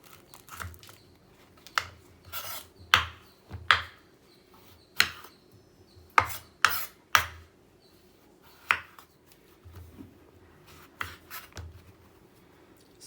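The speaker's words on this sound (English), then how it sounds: "This is a little hard to cut. So you just have to take out the center portion and the skin first." A knife cutting the tough skin off a breadfruit, scattered crisp cracks and scraping slices at uneven intervals, close and fairly quiet.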